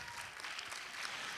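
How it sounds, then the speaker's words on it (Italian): Faint, distant audience applause at an international school performing-arts festival, a soft even patter of clapping from the crowd greeting a school's opening dance number. "Applauso, forza!"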